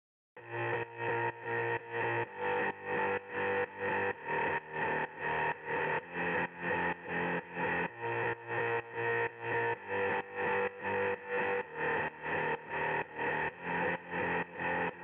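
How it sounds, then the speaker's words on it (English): A distorted, processed mid bass from a progressive house track made in FL Studio pulses in an even repeating pattern of short synth stabs. Each stab is loud and gritty, with the rhythm held steady throughout. "After all the processing, our mid bass will sound like this"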